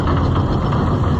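The engine of a John Deere 55 EB combine runs close and loud, a steady rumbling idle with no pauses.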